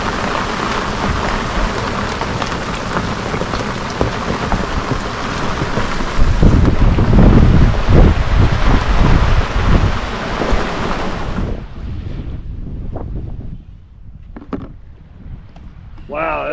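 A rain squall in the Ragged Islands, Bahamas: heavy rain pours steadily with gusty wind roaring, then eases to lighter rain and scattered drips near the end.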